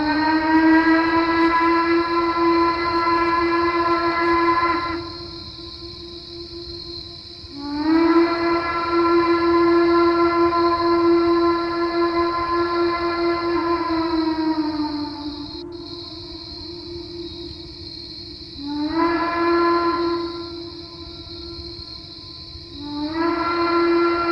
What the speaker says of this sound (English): you hear an unmistakable distant whistle of a steam train